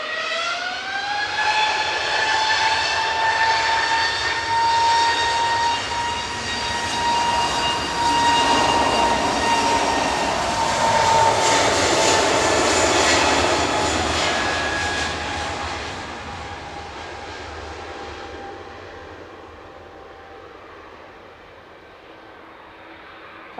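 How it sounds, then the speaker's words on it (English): An SAS Airbus A320neo jet departs Manchester Airport, a loud sustained engine roar with a whining tonal hum that swells as it passes and then gradually fades into the distance. "SAS 542 departing to Copenhagen,"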